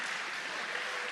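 An audience applauds the medalists at a fencing tournament: steady, dense clapping that fills the room evenly from start to finish.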